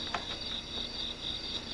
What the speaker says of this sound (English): It's a cricket on the run.